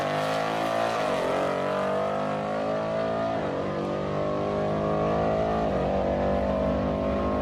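A Ford S550 Mustang with a stock 10R80 ten-speed automatic roars loud and steady down a drag strip, the engine pitch climbing and dipping briefly at each of several quick upshifts.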